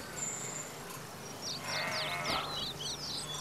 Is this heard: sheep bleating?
yes